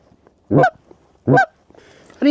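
Geese honking in flight during a two-man field goose hunt, three loud, separate honks spaced about a second apart, close and clear over quiet background.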